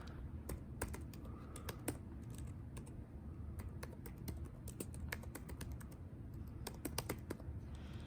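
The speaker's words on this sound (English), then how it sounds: "I'm just gonna type in the next command." Someone types a command on a computer keyboard: irregular, crisp key clicks close up, quiet overall against a low background hum, with no one speaking.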